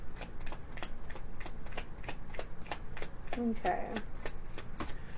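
A deck of tarot cards is shuffled by hand in a series of quick riffling, flicking bursts, close and crisp, while a person briefly speaks.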